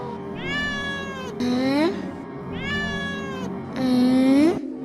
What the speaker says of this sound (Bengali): এই দুষ্ট বিড়াল আমাকে ঘুমোতে দিচ্ছে না